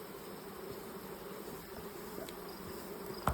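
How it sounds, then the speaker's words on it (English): A steady, dense buzz of honey bees in an open hive box fills the air, close and continuous, many bees humming together, with a brief sharp knock near the end. "A nice box of bees,"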